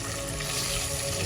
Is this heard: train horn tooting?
no